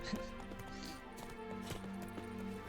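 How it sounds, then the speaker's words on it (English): Horse hooves clip-clopping in the video game Witcher 3, a steady rhythmic run of clopping steps set against sustained game music tones. "Can I get my horse in here?"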